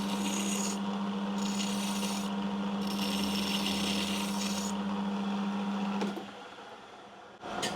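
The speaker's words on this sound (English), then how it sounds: "Just finish that off with the lathe file" A lathe file rasps against an aluminium part turning on a metal lathe, in several rhythmic stroke bursts over a steady motor hum. The hum then drops away as the machine stops.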